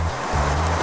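Fluid flushing through the hose of a STAUFF particle counter, a loud continuous hiss and rush with a steady low hum underneath that briefly dips and returns.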